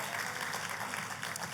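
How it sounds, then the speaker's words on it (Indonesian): Church congregation applauding for God during a sermon, a dense steady clatter of many hands clapping throughout, fairly distant and even. "Tepuk tangannya pula yang paling meriah buat Tuhan kita."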